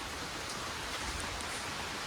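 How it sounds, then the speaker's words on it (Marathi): Steady rain falls outside a house, a dense, even hiss of drops on surfaces with no pauses and no voices. "घरी पोचलो आणि पाऊस चालू झालाय"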